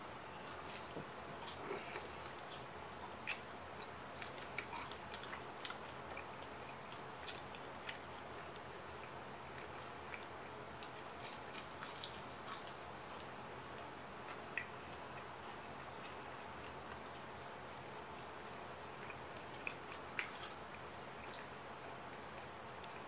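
Garlic bread being chewed close up: faint, soft crunching and wet chewing with small clicks, steady and quiet throughout.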